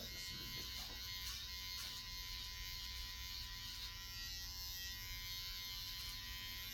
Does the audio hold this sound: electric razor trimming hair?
yes